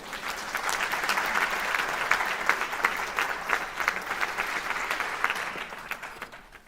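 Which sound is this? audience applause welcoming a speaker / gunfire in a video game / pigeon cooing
audience applause welcoming a speaker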